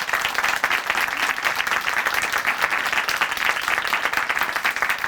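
A church congregation at a worship testimony broadcast claps together, loud and continuous, with the individual claps blending into a rhythmic, bright roar.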